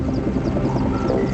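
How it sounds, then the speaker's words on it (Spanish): Helicopters flying over Chernobyl during the 1986 nuclear disaster, dropping sticky liquid; a loud, steady rotor and engine drone fills the brief moment, close and continuous with no speech. "Desde el cielo, los helicópteros arrojan toneladas de un líquido pegajoso"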